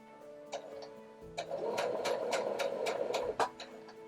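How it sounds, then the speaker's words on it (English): A sewing machine stitches along a piece of fabric toward a corner, its needle running in a steady rapid chatter for a few seconds, close and fairly quiet, starting and stopping with brief clicks. "we're going to sew all the way till we're 5/8 inch from the corner"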